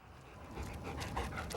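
Search dogs pant quickly and faintly in the woods during a search effort, a short stretch of soft, rapid breathing with no talk.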